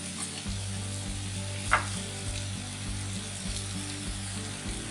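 A low country boil cooking on a griddle under a shut lid gives a continuous close sizzle with a low steady hum beneath and one brief sharp tap partway through, without talking.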